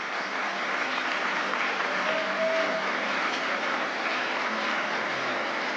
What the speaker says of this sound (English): Shall we keep the applause coming